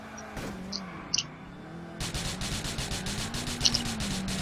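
Car driving in GTA IV, a steady engine drone with rubbing, scraping texture that thickens and grows louder after a brief lull, joined by scattered faint clicks and knocks.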